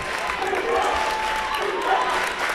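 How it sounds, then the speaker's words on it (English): High school basketball crowd at a St. Henry district tournament championship game, a steady roar of cheering and clapping filling the gym, with commentary voices talking over it. "St. Henry crowd getting loud."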